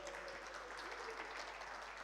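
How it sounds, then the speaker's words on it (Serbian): A conference audience at an ESG panel applauds as panelists are called to the stage, a soft, even patter of clapping heard from a distance. "vi možete slobodno aplauz, tako da i čuju oni dole"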